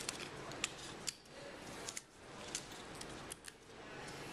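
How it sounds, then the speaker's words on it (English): Tape being pulled and pressed onto a paper sculpture maquette, heard close and quiet as a series of short crinkly ticks and snaps spaced irregularly over a soft background hiss. "How you do that is you just attach tape here"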